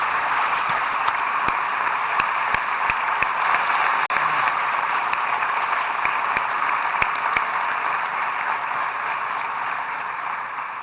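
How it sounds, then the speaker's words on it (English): A large crowd of Vandenberg Air Force Base personnel applauds steadily and loudly during a speech by Vice President Mike Pence, sustained clapping filling the space for several seconds before easing slightly. "Give yourselves a round of applause."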